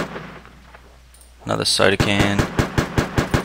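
Rapid bursts of gunfire in a survival video game, close and loud, with a quick string of sharp shots then a steady series of evenly spaced rounds, following quiet talk from a man at the start.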